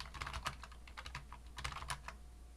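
Quick bursts of keystrokes clatter on a computer keyboard, close and fairly quiet, in two uneven clusters of taps with a short pause between them.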